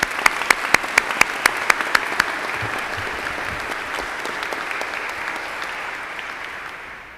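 An audience at a spring honors convocation applauds honor society inductees, a broad wash of clapping with a few loud, close individual claps at the start, slowly fading out.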